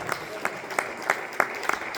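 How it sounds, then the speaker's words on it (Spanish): Church congregation clapping during a Spanish-language sermon, heard as a run of separate, fairly regular claps with a faint voice underneath. "Denle un aplauso fuerte al Hijo de Dios."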